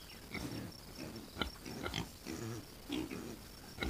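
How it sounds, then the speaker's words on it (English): A mother pig with her piglets, an American Guinea Hog and Idaho Pasture Pig cross, grunting in short repeated snorts close by outdoors, with faint high insect chirping behind. "maybe the baby pigs will start eating some of them soybeans"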